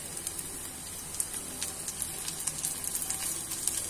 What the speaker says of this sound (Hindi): अब मैं इसमें ऐड करूंगी हरी मिर्च और अदरक लहसुन का पेस्ट